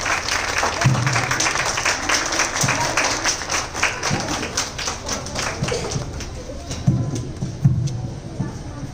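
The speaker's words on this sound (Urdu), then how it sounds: "آپ کی بھرپور تالیوں میں پرنسپل محبوب صاحب" Parents applaud as principal Mahboob Ahmad is called to the stage at a school result function, a dense, steady wash of clapping that continues throughout with faint crowd murmur beneath.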